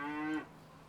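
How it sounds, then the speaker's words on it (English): A cow in a field near the Stroudwater Canal floodgates gives one short, distant moo, then a quiet outdoor background follows. "Really, some cows mooing over there."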